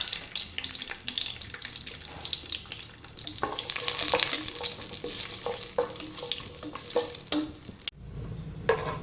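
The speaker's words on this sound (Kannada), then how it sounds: "ಇವಾಗ ಬಿಸಿಯಾದ ಎಣ್ಣೆಗೆ ಸ್ವಲ್ಪ ಗೋಡಂಬಿಯನ್ನು ಹಾಕ್ತೇನೆ" Cashews fry in hot ghee with a bright, busy sizzle that swells and settles, broken by a few spoon clinks and a brief cut near the end, with no voices.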